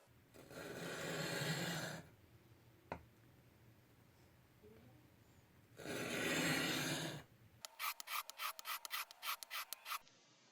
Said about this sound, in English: I also need to hone the narrow parts of the bit